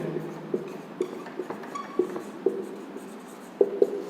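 Marker or chalk strokes on a board during a class 12 trigonometry lesson, a steady series of short taps and scratches roughly every half second, close and fairly quiet, with no talk over them.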